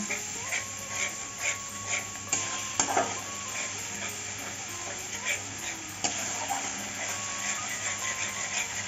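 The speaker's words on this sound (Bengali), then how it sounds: "সামান্য একটু জল দেব দিয়ে এখন ভালো করে কষিয়ে নেব" Spices with Kashmiri chili powder and a splash of water sautéing in a pan for a vegetarian jackfruit curry, with a steady soft sizzle and occasional scraping stirs of a spoon against the metal.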